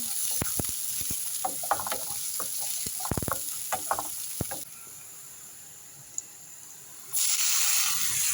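Spice paste frying in a pan for Arabic shakshuka crackles and spatters in quick bursts near the start, then settles into a quieter, steady sizzle.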